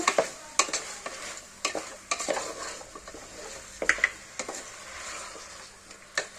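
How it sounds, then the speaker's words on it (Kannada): A spoon stirs salted palak mutton gravy in a pan, with scattered scraping clinks against the metal over a faint low sizzle, close and without talk. "ಸ್ವಲ್ಪ ಉಪ್ಪು ಹಾಕಿ ಒಂದ್ಸಲ ತಿರುಗಿಸ್ಬೇಕು"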